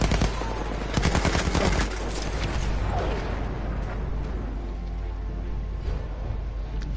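Gunfire in a video game, a loud close-up machine gun firing in rapid bursts for about two seconds. Cracks and rumble trail off afterwards over a noisy background.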